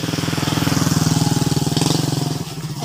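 A motorcycle engine runs close by with a fast, even pulsing putter, loud and steady, then eases off slightly near the end.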